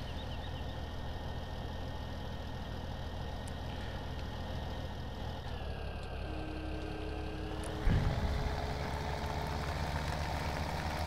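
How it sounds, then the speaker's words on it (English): A farm tractor engine idling with a constant low, even rumble close by, and a brief clunk and slight shift in pitch partway through. "we'll leave this tractor over here for the time being"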